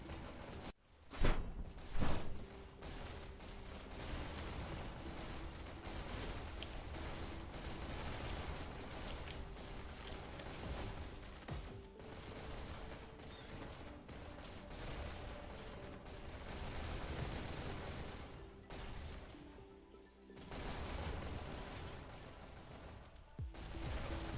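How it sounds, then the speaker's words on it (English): Weapons being test-fired in a VR e-sports league match, heard as a steady dense clatter of rapid gunfire and mechanical action running throughout with brief lulls, no talk. "People test firing their weapons."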